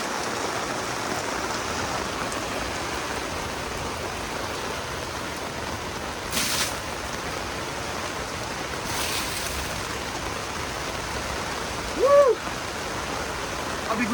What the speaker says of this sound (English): all that water that you see coming off of that retaining wall, it all comes right into our campsite